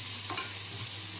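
Garlic, ginger and dried chilies fry in oil left from frying fish, a brief steady sizzle with a light stirring scrape near the start.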